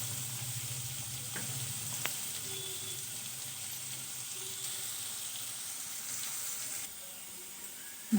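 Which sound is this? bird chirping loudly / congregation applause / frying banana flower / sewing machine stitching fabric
frying banana flower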